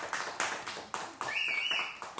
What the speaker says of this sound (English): Oh yeah, you can clap.